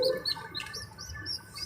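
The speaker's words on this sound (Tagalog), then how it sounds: "Malapit-lapit na rin mangitlog yan kasi nagpaparisan sila mga kalapati oh." Pigeons pairing up in a coop, close to laying eggs, give repeated short, high chirping calls in a steady stream at close range, with no voices.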